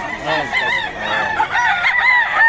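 Boston Sweater gamefowl stag crowing loudly and close, a drawn-out cock-a-doodle-doo with clucking fowl in the background at a poultry gathering in Bocaue.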